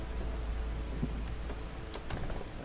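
A steady, dense hiss of heavy rain fills the storm phase of the city-building video game Against The Storm, with a deep rumbling low end and a few faint ticks on top.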